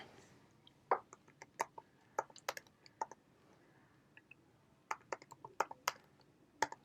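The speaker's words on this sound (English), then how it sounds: "so you can type whatever password you want" Someone types a password on a computer keyboard: sparse, close key clicks in small irregular clusters spread over several seconds, fairly quiet with no talking.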